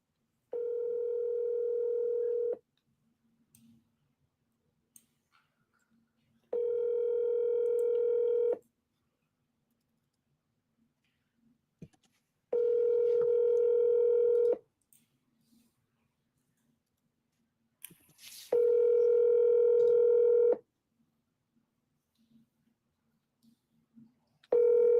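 A telephone dial tone sounds in four steady bursts of about two seconds each, separated by pauses, with faint clicks in between as a call is placed on a landline.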